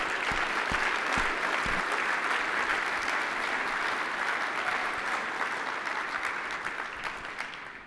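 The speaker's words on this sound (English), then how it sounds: "I would like us to start with a round of applause to all of those who won an award" An awards-event audience applauds the winners with sustained, dense clapping that holds steady before fading slightly toward the end, moderately distant in a large room.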